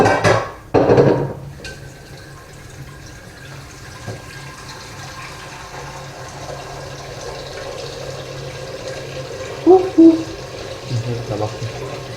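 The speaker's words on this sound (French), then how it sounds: "Je vais déjà mettre de l'eau à celui-ci." Tap water pouring into a cooking pot in a home kitchen, a steady moderate rush running for several seconds, with a few clanks of pots and brief speech over it.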